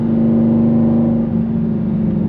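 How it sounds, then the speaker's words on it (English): A car's exhaust drones in a steady, loud, continuous note while driving on a club rally cruise through wooded roads, with no talking. "at least we have a lovely exhaust note"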